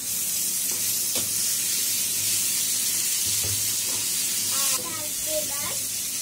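Onion, garlic and dried loitta fish fry in a pan with a steady, close sizzle. A few utensil stirs and scrapes break through, and a voice speaks briefly near the end.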